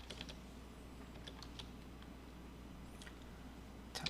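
Keys on a computer keyboard are tapped in a quiet room during CAD drafting work, giving scattered light clicks and ending with a quick double press.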